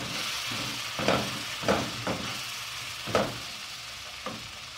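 Ground spice powder of red chillies, coriander seeds and turmeric is stirred into a hissing pan for a king fish curry, with a soft sizzle under several distinct scrapes and knocks of the spoon, close up and alone.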